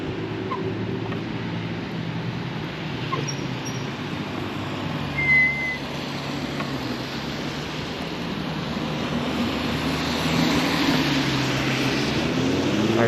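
A moped motor runs steadily in turbo mode on a rainy road heading toward a hill, a constant droning hum with road and wind noise, close and unbroken throughout.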